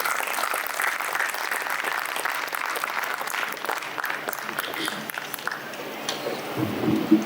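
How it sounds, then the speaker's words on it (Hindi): An audience at a ghazal collection book launch claps steadily, a dense moderate applause that continues for several seconds before thinning out, with a voice starting to speak near the end. "जोरदार तालियां होनी चाहिए।"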